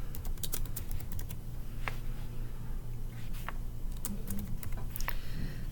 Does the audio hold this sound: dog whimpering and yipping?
no